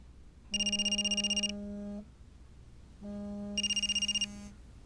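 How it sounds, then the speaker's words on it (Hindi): Telephone ringing with a call from home, two trilling electronic ring bursts separated by a pause, each with a rapid warbling tone over a steady hum, fairly quiet and alone. "तुम्हारे घर से फोन आ रहा है?"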